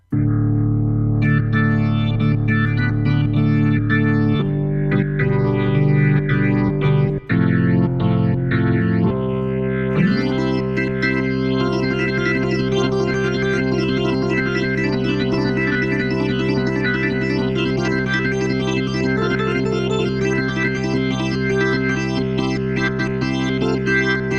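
A distorted, gritty rock organ plays sustained chords, then shifts into a busier riff with swirling effects, loud and continuous throughout.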